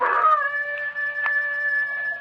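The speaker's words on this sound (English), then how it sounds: "what's the matter with that hound dog of yourn? Doing a powerful lot of howling tonight, ain't he?" A hound dog howls in a radio drama effect, one long, steady, tonal wail that holds its pitch for over two seconds, loud and close with no voices over it.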